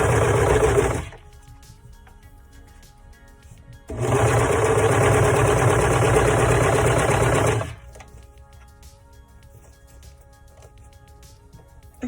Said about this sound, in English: I'm just going to sew this side of the shirt and do that for both sides.